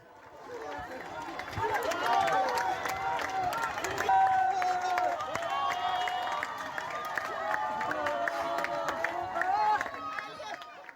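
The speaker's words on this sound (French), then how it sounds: "Ils sont applaudis par la foule." A street crowd in Libreville cheers and claps for soldiers riding in a pick-up, a loud sustained roar of voices and applause.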